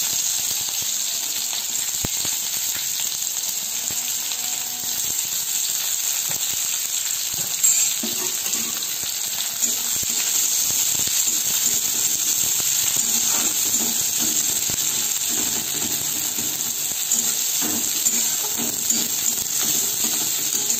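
Onions fry in hot oil with dried red chillies, cumin and a bay leaf for masoor dal, a steady close sizzle and hiss throughout, with occasional light clinks of stirring.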